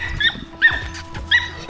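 A dog near residential flats in Mt Druitt, Sydney, lets out three short bursts of high, yappy barks with whimpering yips, spaced apart by brief pauses and fairly close by.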